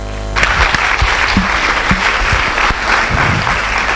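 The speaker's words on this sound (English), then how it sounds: "Applause for all those great performers." An audience applauds performers at a live event, sustained clapping from many hands that starts abruptly and holds steady and loud throughout.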